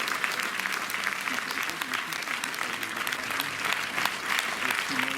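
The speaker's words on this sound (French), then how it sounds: "j'aimerais que vous les applaudissiez aussi pour ça" A cinema audience applauds before a film screening, sustained clapping from many people at moderate volume with some murmuring voices underneath.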